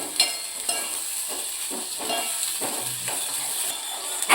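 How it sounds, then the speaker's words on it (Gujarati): Onions sauté in a pan with garlic for urad dal, giving a steady close sizzle with soft, intermittent stirring scrapes throughout and no talking. "હવે આપણે ડુંગળી નાખીશું ડુંગળી આપણે સોતે કરી લઈશું"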